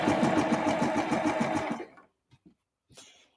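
A sewing machine runs a steady, rapid stitching burst while understitching the facing and lining of a garment hood, then stops, leaving a few faint handling clicks.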